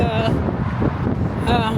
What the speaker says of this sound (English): It's so windy this morning.